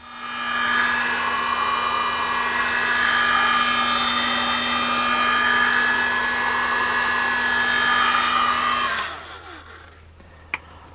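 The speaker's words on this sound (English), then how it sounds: "you can use something like a hairdryer or a hot air gun to heat this up to get it to cure a little bit faster" A hair dryer or hot air gun blows on freshly sprayed paint on new sills for a Jaguar X-type Estate, a loud steady whirring roar with a constant hum that runs about nine seconds then cuts off, followed by a click.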